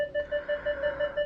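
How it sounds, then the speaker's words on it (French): A Kia Niro electric car's parking sensor sounds a warning: a steady run of about six short, high electronic beeps, close and clear, with no talking. "On a des petits systèmes d'alarme"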